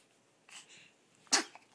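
A five-week-old baby sneezes: a soft breathy lead-in followed by one sharp, close sneeze, with quiet breathing after and no talking.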